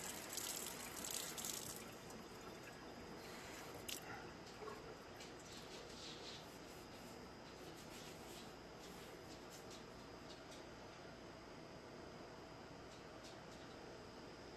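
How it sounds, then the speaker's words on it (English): Water from a sink tap rinsing vape tank parts: a steady, quiet gushing stream with occasional small clinks and splashes, continuing without talk. "rinse it off with warm water or cold water"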